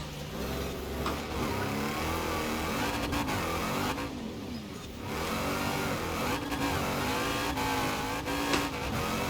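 Engine of a Hellcat-powered DeBerti Design Wrangler race car revving hard in Forza Horizon 4, a loud continuous roar with rising and falling pitch through gear changes and brief tire squeal, no talking.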